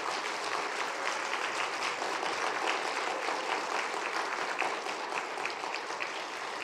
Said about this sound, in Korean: 좀 더 감사의 박수로 화답해 주시면 고맙겠습니다